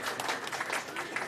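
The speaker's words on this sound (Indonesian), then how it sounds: "Boleh tepuk tangan untuk para ketua DPC." Audience at a PKB political party gathering in Jakarta claps steadily, a dense wash of applause lasting the whole moment with a faint crowd murmur beneath.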